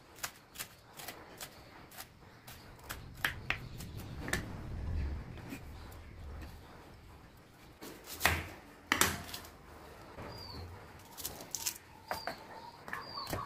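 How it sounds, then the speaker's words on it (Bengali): A knife chops onion on a board in a home kitchen, making irregular, fairly faint clicking taps that come in small clusters against a quiet background. "তারপর একটা পেঁয়াজ কুচি কেটে নেব"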